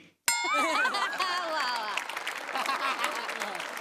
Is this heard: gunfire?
no